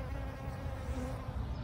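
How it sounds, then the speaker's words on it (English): Bees hum steadily around potted dragon fruit plants on a morning, a soft, continuous close buzz with no voices. "And the bees are really happy here this morning."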